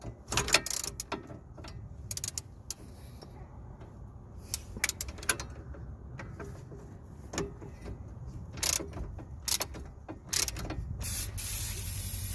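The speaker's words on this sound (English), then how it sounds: "we're gonna apply plenty of WD-40" WD-40 sprayed onto the wheel hub of a Jaguar XF with a broken stud: several short, sharp aerosol hisses in separate bursts over a low workshop background, close by.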